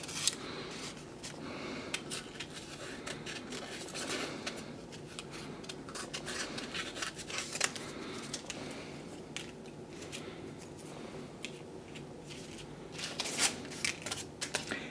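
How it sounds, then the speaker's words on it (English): Scissors snip paper into freeform cut-out shapes, a run of close, soft crisp cuts and paper rustles that bunch into quicker clusters near the end, with no voice heard. "I'm going to try one and just guide my paper with my left hand while I keep my scissors in the right"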